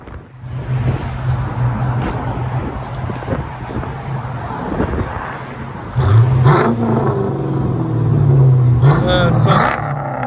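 A 2007 Chrysler 300C with a 5.7L HEMI V8 and Flowmaster Outlaw dual exhaust rumbles at idle, then revs harder in a few louder bursts near the end, with wind noise and people talking over it.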